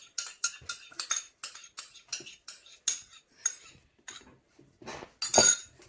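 A spoon stirs butter, sugar and sour cream batter in a bowl, making a steady rhythm of about a dozen sharp clinking scrapes against the bowl, close and clear, with one heavier scrape near the end.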